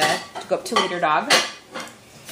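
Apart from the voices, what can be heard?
dishes being washed in the background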